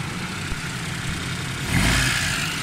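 A Suzuki Cultus engine idles steadily after a carburetor and fuel-average repair, a close, even hum that rises into a brief rev near the end.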